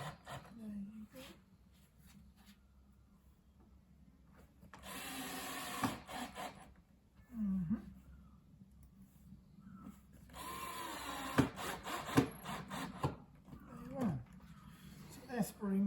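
A screw is turned by hand into a pre-drilled hole during mirror assembly. It gives two bursts of scraping and rubbing friction, with a low voice murmuring underneath.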